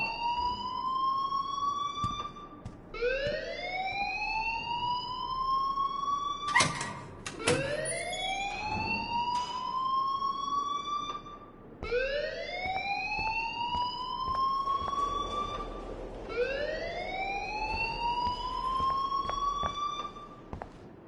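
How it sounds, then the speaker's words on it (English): An alarm blares in Life is Strange, a looping wail that sweeps up in pitch and repeats about every four seconds, loud and continuous over faint background noise. "please turn off that alarm since that's your job"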